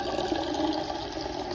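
Water running from a bathtub tap, a steady hissing gush with no break, heard close up and fairly loud.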